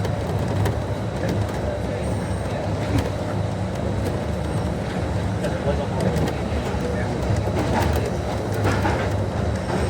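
The Disneyland monorail train rumbles along at a steady, continuous level, with faint rattles and clicks on top and a voice speaking over it.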